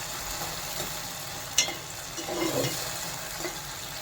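Dried prawns fry in a pan with a soft, steady sizzle, broken by a brief sharp clink and some quiet stirring scrapes.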